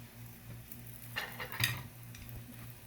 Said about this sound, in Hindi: एक पराठे में मैं एक एग लगा रही हूँ, इसको फैला के